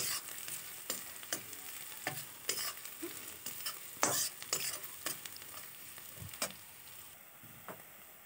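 A spoon scrapes and taps through mashed capsicum and potato bharta in a pan, giving irregular close clicks and knocks over a low, steady frying hiss.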